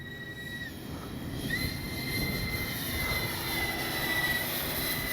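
A Freewing AL37 RC jet sweeps around a flying field, its high turbine-like whine shifting in pitch as it passes, steady and moderately loud over low wind rumble.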